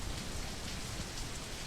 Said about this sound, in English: When we first load in, I like the sound of the rain